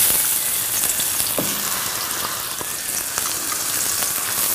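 Onion pieces frying in hot oil in a pan, a steady close sizzle with scattered pops and crackles throughout, no talking.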